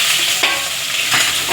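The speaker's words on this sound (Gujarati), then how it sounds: "હવે લીમડો નાખશે આમાં," Curry leaves sizzle loudly in hot tempering oil for methi muthiya dhokla, a close, steady crackle broken by a few sharp scraping stirs.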